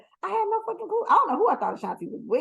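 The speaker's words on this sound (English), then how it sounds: "You hear the dog?" A small dog named Teddy lets out a few yips and whimpery barks close by, mixed in with and partly under steady conversation between people.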